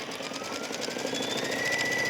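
A sewing machine stitches a placement line for a small cork oval on a note holder, its needle running in a fast, even mechanical whir that stays close and constant with no talk.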